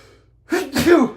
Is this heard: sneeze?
yes